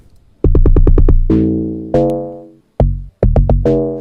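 Two types of log drum sound, including a default Amapiano log drum, play in an Afrobeats beat: a rapid run of punchy tuned hits followed by longer sliding bass notes, loud and alone.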